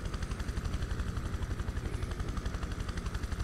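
A helicopter in the video game Prototype 2 thuds steadily with fast, rhythmic rotor beats, loud and close, holding a constant pulse throughout.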